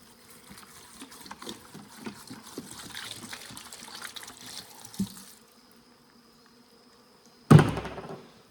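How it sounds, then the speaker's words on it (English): Antifreeze pours into the bottom of a beehive mite-count tray, a short trickling, splashing gush heard close by after a stretch of faint background noise and insects. "we'll get a bit of antifreeze in the bottom of the tray here"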